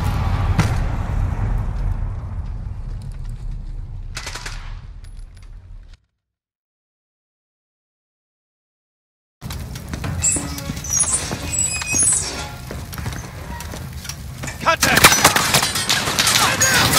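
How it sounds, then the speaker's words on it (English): A machine gun nest fires from a second deck in Call of Duty Modern Warfare, with clattering bursts and debris, a silent gap midway, then heavier sustained fire with crackling impacts. "Got an MG nest on that second deck! He's dug in!"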